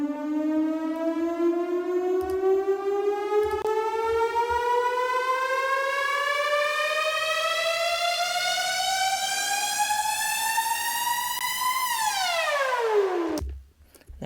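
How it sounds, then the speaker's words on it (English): A synthesized house-music riser sweeps steadily upward in pitch for about thirteen seconds, loud and bright, then drops sharply downward and cuts off, alone with no talk. "we've looked up at setting the oscillators for our upriser sound"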